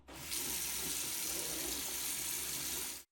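Water running from a tap while rinsing a controller's silicone membrane, a steady close rushing stream lasting about three seconds before stopping abruptly.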